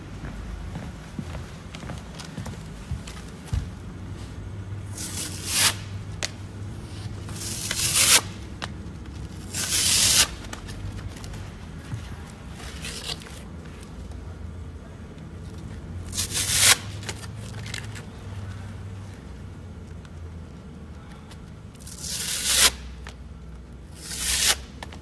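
An American Sanders FloorCrafter floor sander with 50 grit paper works a hardwood floor, a low motor drone underneath repeated loud rasping sweeps that come every few seconds.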